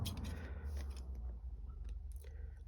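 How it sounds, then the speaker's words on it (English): Scissors trimming overhanging acetate sheet on a card project, a few quiet close snips and crisp cutting crunches in a hushed room. "So just trim your acetate anywhere it's overhanging"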